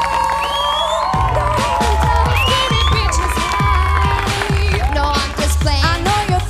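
A crowd at the Factor X talent show cheers and claps for the contestant Filipa, with shouts and whoops rising over music and tonal vocal sounds in a loud, busy mix.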